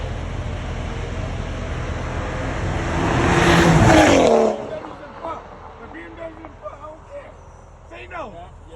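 Race cars at a car culture event in Rhode Island roar past at high speed, building to a loud peak as a tire squeals before dropping away into crowd chatter and voices.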